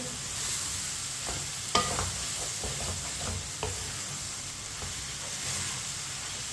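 Apple gourd (tinda) pieces being stirred and fried in a pan with a spoon, giving a continuous soft sizzle broken by a few sharp spoon knocks and scrapes.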